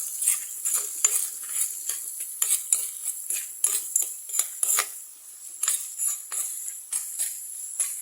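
A spoon stirs curry leaves and onions with salt in a pan, with repeated light scraping and clinking strokes over a soft sizzle, close by.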